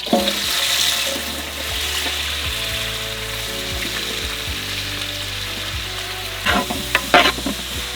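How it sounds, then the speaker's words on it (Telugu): Washed onions hitting hot oil for a large batch of nalli mutton biryani, a loud close sizzle that settles into steady frying, then a few knocks and stirring clatters near the end, with no talk. "ఉల్లిగడ్డలు మంచిగా కడిగేసి పెట్టుకున్నాం కదా, అవిటిని వేస్తున్నాం కదా"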